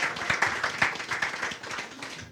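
An audience at an event on raising high school graduation rates applauds for Barbara Duffield with steady, moderately distant clapping that carries on for a couple of seconds.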